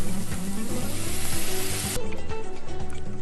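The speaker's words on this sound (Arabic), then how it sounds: "هنزل بعصير الطماطم" Tomato juice hits small pieces of liver sautéing with onion and garlic in a hot pan, giving a loud continuous sizzle and bubbling that holds steady throughout.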